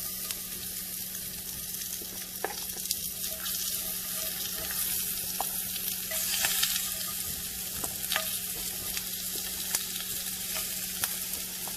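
Shrimp for shrimp and grits sear in a hot pan with a continuous loud hiss and crackle, dotted with sharp pops and brief scrapes, steady for the whole stretch.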